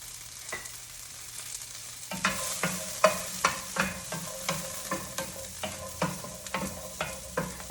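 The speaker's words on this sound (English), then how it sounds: "the snap peas will go in for just 30 seconds, just to get them nice and brown" Snap peas sizzle and crackle in a hot pan as they are stir-fried, with a steady frying hiss and repeated clacks of a utensil tossing them.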